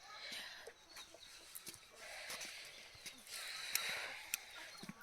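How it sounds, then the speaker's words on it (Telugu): Chickens cluck softly while pecking at feed outdoors on a cold morning, giving scattered faint clucks over a steady, hissy outdoor background. "కోళ్ళు చక్కగా పొద్దున్నే మేతకొచ్చేసినాయి."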